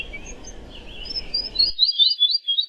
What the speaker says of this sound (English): which is the rufous fantail, and it likes to, it's called the follow me bird